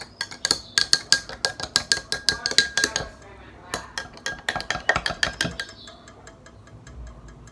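A spoon stirs a drink in a glass, producing a rapid, rhythmic series of bright clinks and taps against the sides that pauses briefly, resumes, then slows to scattered light ticks, close and fairly quiet.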